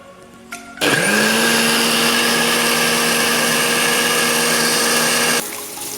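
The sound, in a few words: blender grinding dried chilies and bird's eye chilies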